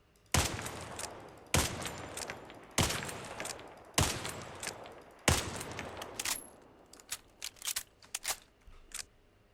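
A Mannlicher rifle in a video game fires five sharp, loud shots at an even quick pace, each with a short decaying tail, followed by a burst of lighter mechanical clicks and clacks.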